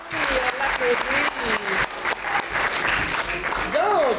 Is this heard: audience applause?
yes